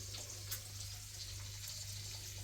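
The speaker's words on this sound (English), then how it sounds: "Water comes out." Water runs from a small portable hand-washing sink worked by a foot pedal, a steady quiet hiss and splash with no voices.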